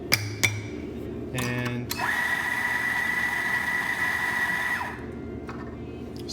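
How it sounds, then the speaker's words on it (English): A Compak E8 espresso grinder purges coffee, its motor whining steadily for about three seconds before stopping, close by, preceded by a few knocks and clatters, with one brief spoken word at the start. "I'm gonna just purge the grinder"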